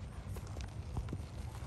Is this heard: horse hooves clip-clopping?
yes